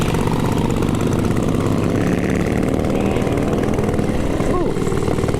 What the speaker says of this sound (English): Back on the ignition, back in the throttle coming through.